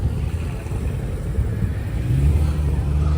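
A V8 BMW M3 at a cars and coffee meet, a deep rumbling engine idle that swells into a rising rev toward the end, fairly close.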